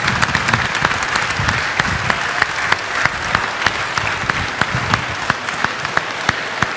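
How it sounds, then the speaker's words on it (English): A church congregation at St. Eugene Catholic Community in Los Angeles gives a dense, steady round of applause for the newly confirmed, close and sustained with a few sharper claps standing out. "let's give them a round of applause."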